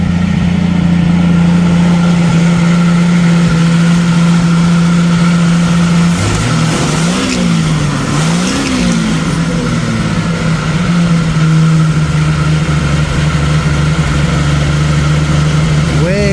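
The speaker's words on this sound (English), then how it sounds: "let's start her up and see if she squeals" A 1990 Jeep YJ with the 4.2L engine turns over and idles with a steady, close rumbling drone, and its pitch rises and falls briefly midway before settling back to an even idle.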